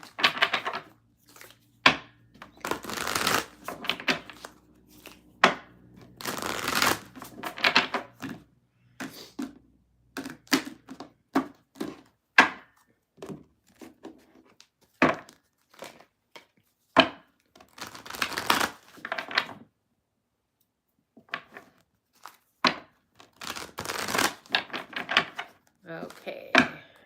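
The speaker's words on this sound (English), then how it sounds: "Shuffle it all up good." Cards are shuffled and riffled in irregular bursts of crisp rustling and flicking, with soft knocks and brief quiet gaps between.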